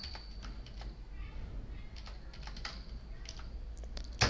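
Fast, light key clicks on a computer keyboard as a code is typed into feed formulation software for broiler chickens, steady irregular tapping at close range with a louder final keystroke.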